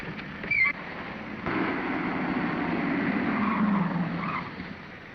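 A car pulling away fast in a 1941 chase scene, engine rising and tires skidding in a continuous loud surge after a brief thump.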